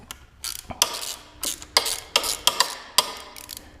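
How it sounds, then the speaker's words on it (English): Ratchet wrench loosening bolts on the levers of a Husqvarna FE 501s motorcycle, heard as a series of close, sharp clicking bursts in an uneven rhythm, several quick ratcheting runs with brief pauses between, no talking. "Just get the bolts out."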